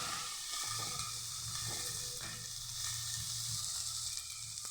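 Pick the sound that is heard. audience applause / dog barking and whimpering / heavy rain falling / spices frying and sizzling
spices frying and sizzling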